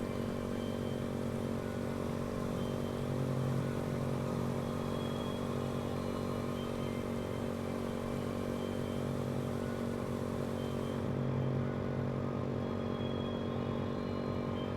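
Motorcycle engine in the video game Code Vein 2, a steady droning hum that holds at an even level throughout, with no voices over it.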